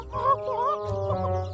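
Chicks in an Upin & Ipin cartoon cluck and cheep in quick, high, wavering calls, close and clear, with a soft low rumble beneath.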